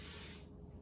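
A short burst of cooking spray hisses onto a Bundt pan, giving it a light coating for a lemon blueberry cake, then cuts off about halfway through, leaving only quiet room noise.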